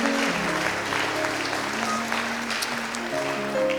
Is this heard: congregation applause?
yes